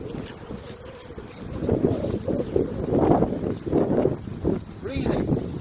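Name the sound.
wind blowing outdoors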